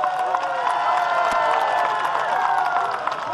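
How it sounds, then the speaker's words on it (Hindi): A large crowd at a political public meeting on the ITBP Ground in West Siang, Arunachal Pradesh, cheers and claps in a dense, loud, sustained roar of voices with applause mixed in. "बहुत ही जोरदार तालियां।"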